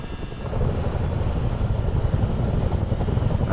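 A Chinook helicopter in Microsoft Flight Simulator 2020 starts a rolling takeoff at night, giving a steady, loud, dense engine and rotor roar that stays constant throughout, with no talking.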